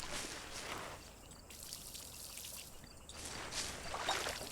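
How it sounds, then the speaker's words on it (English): Water pours and trickles steadily while crops are watered in the farming video game Verdant Skies, a soft, continuous splashing with slight swells, fairly quiet and with no talk. "I'm trying to head to the marsh to water my crops"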